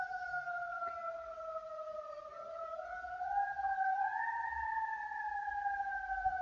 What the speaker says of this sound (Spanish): justo hay una sirena, no sé si me está... Tengo los bomberos muy cerca